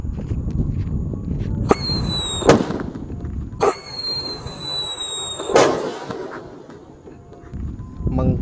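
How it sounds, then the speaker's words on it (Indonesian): Whistling thunder fireworks pushed into the ground go off outdoors: two shrill rising whistles, each ending in a loud bang, with crackles and a voice talking between the blasts. "di sini ada whistling thunder. Kita nyalakan, teman."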